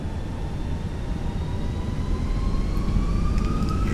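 Aircraft engines run at power in Microsoft Flight Simulator 2020, a steady loud droning roar with a rising whine that slowly climbs in pitch throughout, no talk over it.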